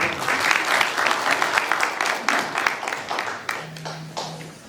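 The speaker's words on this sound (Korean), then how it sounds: "환영의 박수 부탁드리겠습니다" Welcoming applause from residents at a neighbourhood station-area redevelopment briefing, a few seconds of steady clapping that thins out toward the end.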